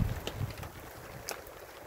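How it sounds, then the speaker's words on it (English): Gusty wind outdoors by a fire buffets the microphone in a low rumbling roar, with a few faint brief knocks and no speech. "Pretty windy here."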